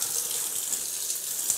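Tap water runs steadily as a blender attachment is rinsed beneath it, a bright, continuous close-up splashing hiss with small bursts of spatter.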